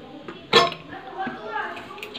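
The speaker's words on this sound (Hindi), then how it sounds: "अब कुकर दाल को इंडक्शन से उतारा जा रहा है।" A metal clank as a pressure cooker of lentil dal is lifted off an induction stove and set down, followed by lighter clinks and shuffling, with talking underneath.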